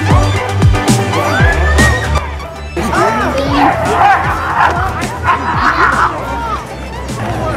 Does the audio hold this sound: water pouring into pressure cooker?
no